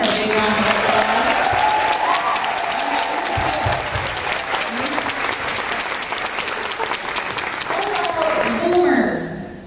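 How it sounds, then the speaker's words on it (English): Loud, dense audience applause fills a large hall, sustained cheering and clapping from a big crowd with some voices mixed in before it tapers off near the end. "Can we give her a big round of applause?"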